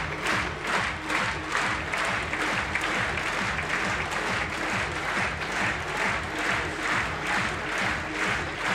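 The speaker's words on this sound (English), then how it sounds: "The crowd are on their feet as it's match point for the #2 seeds." The crowd at a beach volleyball final in Prague applauds at match point, dense clapping and cheering held steady and loud throughout with no break.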